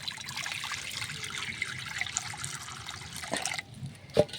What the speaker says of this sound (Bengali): উনান ধরে দিয়েছি, উনানে এখন আমি পানি দিছি।